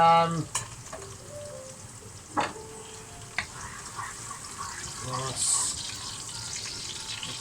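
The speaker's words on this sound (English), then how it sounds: "things are frying and I'm still chopping" Chicken and king prawns fry in a hot wok for Singapore noodles, giving a steady close sizzle with a few sharp clatters and stirring knocks, plus a brief run of tap water partway through.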